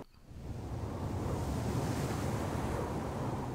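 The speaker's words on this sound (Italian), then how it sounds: "questo vento a ripetizione, perché si sente che dopo un po' il vento smette e ricomincia" Repeating wind in the video game Devil May Cry swells up from a brief quiet start into a steady, full roaring gust that carries on unbroken.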